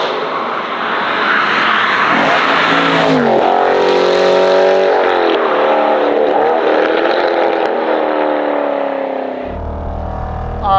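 An Aston Martin Vantage sports car engine, GT8 or F1 edition, revs hard and loud, pitch climbing and falling through several gear-like surges before settling into a low rumble near the end.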